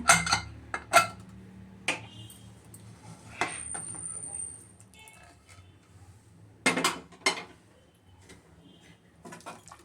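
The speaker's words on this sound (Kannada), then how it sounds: "ಇವಾಗ ಕುಕ್ಕರ್ ಮುಚ್ಚಳ ತೆಗಿತಾ ಇದ್ದೀನಿ." Metal lid of a pressure cooker being opened after cooking sambar, a few sharp clanks and scrapes of metal utensils spaced apart, with quieter gaps between.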